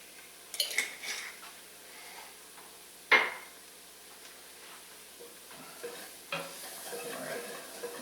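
Cumin being stirred into white bean chili in a pot, soft scraping with a sharp clink of a utensil against the pot, close and fairly quiet over a faint simmer.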